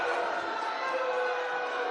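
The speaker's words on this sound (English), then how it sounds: "They're booing him" A crowd boos a Republican congressman, a steady, continuous wash of jeering voices filling the hall at moderate distance with no breaks.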